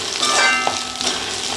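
Cashews and spices sauté in a pan for salna, a close, steady sizzle and crackle with light stirring scrapes throughout, no talking.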